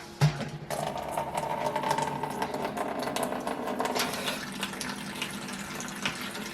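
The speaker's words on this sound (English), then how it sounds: "it's just going to be going out of the tap into the bucket" Water drains from the tap of a BrewZilla Gen 4 brewing system into a bucket, a steady close splashing rush that starts after a brief knock and continues evenly to the end.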